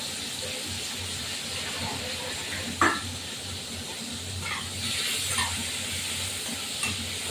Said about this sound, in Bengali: যেহেতু দুদিনের মাছ তার জন্য পুঁটি মাছটা ভাজা